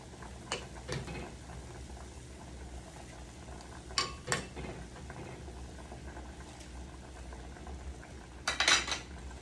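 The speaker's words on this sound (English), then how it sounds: "Let's keep stirring it up" A utensil stirs a creamy sauce for fish pie in a pan, giving soft steady scraping under a few sharp metallic clinks, the clearest near the end.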